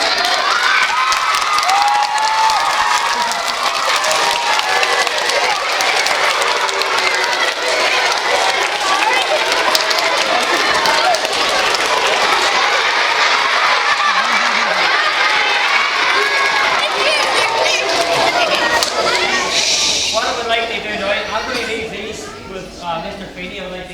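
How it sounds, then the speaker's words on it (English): A hall full of school children at an assembly shouting and cheering loudly and continuously, a dense wall of excited voices with some clapping, fading slightly near the end. "How are you going to cheer them on?"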